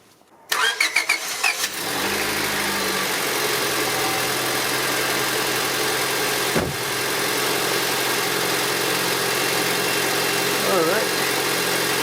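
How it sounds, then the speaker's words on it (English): A 2002 Honda Civic engine cranks and catches after an exhaust manifold replacement, then settles into a steady, loud idle with a constant low hum that continues unchanged. "Let's start the car and let's see if there's a leak."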